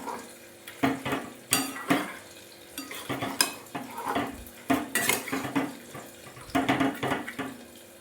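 A spoon stirs poppy seed paste through spinach, vegetables, tomato, green chili and ginger paste in a pan, giving repeated scraping clinks and knocks against the metal in an uneven rhythm, close and fairly loud.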